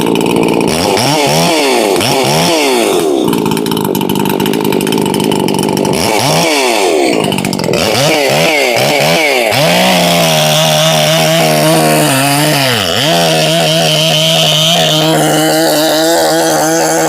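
An Echo 590 chainsaw with a modified exhaust and welded combustion chamber screams at full throttle, running rich while warming up, its pitch bouncing against the rev limiter in repeated surges before settling into a steady high whine; loud and close, no voices.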